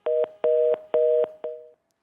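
A telephone busy tone repeats after a call from a broadcast studio phone line suddenly disconnects, with four steady beeps in an even on-off rhythm, clear and alone before stopping.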